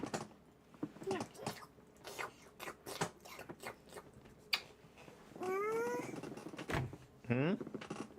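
A kitten meows a few times, short rising cries near the mic amid faint crunching, chewing-like sounds, with a person talking softly in between.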